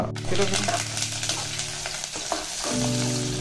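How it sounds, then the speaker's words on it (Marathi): Onion poha frying in a wok with a steady close sizzle, a spatula scraping and stirring through it in repeated strokes. "2 कांदे कापले बहुत मोठे मोठे आणि आता बनवत आहे पोहा."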